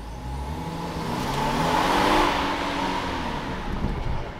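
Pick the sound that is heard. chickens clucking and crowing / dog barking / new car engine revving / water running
new car engine revving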